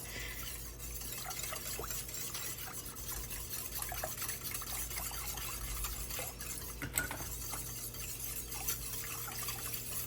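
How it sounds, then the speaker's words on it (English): A whisk stirring evaporated milk and cream of celery soup in a pot, a soft continuous swishing and scraping at low level, steady throughout with faint background hum. "I'm going to whisk this up."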